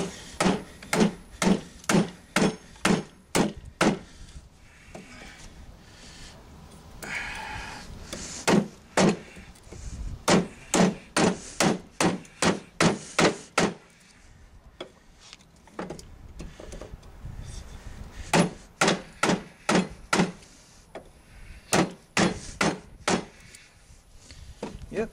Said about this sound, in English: this time we'll go back to the knife and the hammer,